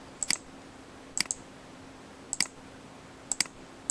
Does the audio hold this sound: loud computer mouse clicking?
yes